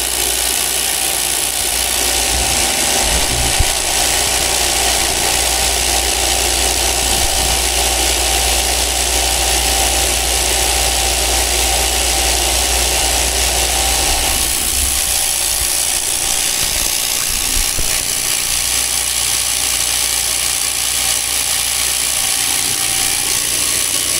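A Harbor Freight vibratory tumbler fitted with a replacement bowl runs without pause, making a loud, even mechanical rattle and buzzing hum that holds steady throughout with no talking.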